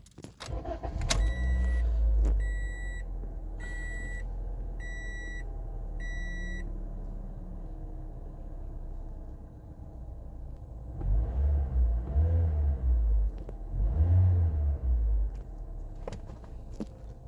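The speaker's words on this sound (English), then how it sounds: "Let's start the car again, see what happens." A 2017 Toyota Corolla with a P2610 check-engine fault beeps through its ignition chimes, then the engine cranks and settles into a steady low idle that swells briefly twice, close by and with no talk.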